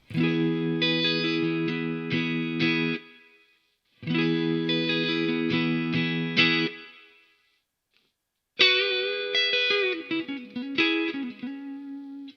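An electric guitar plays sustained chords in three bursts separated by short silences, clean tone with slight harmonic tremolo shimmer and washy reverb tail from a Big Sky pedal, no voices.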